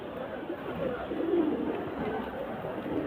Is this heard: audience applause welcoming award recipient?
no